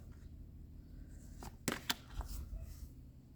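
Tarot cards are drawn from a deck and laid down, making a few soft snaps and slides in a quiet room.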